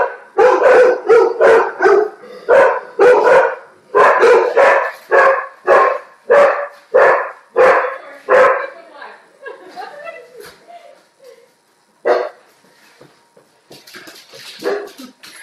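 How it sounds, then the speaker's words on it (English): A dog barks loudly and repeatedly at close range in quick bursts, then quiets to softer whimpers and yips before a few final barks. "oh, I hear my dog's barking."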